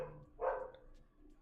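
Dogs barking in a house, a single short muffled burst in the middle, moderately distant and fairly faint over a quiet room background.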